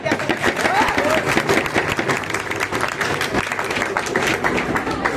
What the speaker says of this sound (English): can we have a round of applause for Rajesh?